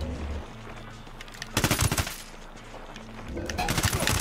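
Firefight in Ghost Recon Wildlands, with quick bursts of machine-gun fire in two short clusters over a low rumbling background, moderately loud with some voice-like sound underneath.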